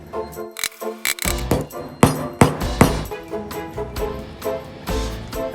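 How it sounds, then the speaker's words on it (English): A hammer strikes a nail several times in an uneven rhythm, sharp metallic knocks up close with a slight ringing clink between blows. "nail it in place"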